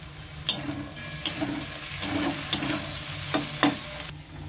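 Washed shitol fish hit hot oil and reddened fried onions in a pan, a steady loud sizzle broken by several sharp stirring scrapes and clinks of a utensil.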